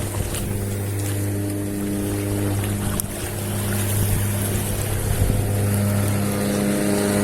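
A motorboat engine drones steadily on the water during a fishing outing, a constant low hum with a steady tonal throb that holds at even strength from start to finish, with no voices.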